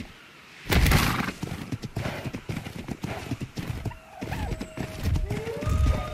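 Horse hooves clip-clop in a quick uneven rhythm in the video game Ark, and the horse gives a couple of whinnies near the end. The sounds are close and clear, with no voices.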